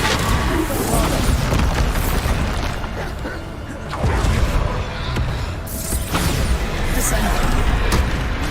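Bombarda spell blasts in the video game Hogwarts Legacy, repeated booming explosions with whooshing bursts throughout, dense and loud amid constant combat noise, with voices calling out spells over them.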